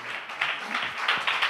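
A worshipping congregation claps in praise, a brisk wash of many hands heard from a little way off, uneven and swelling in short surges.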